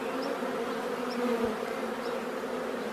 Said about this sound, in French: les abeilles commencent à se faufiler à l'intérieur de la ruche